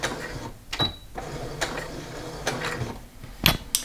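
Sewing machine stitching around the hem of a fabric baby skirt, heard as short mechanical whirring bursts with clicks and pauses between runs, fairly close and moderately quiet.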